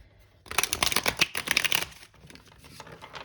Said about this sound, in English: I'm going to do one last shuffle here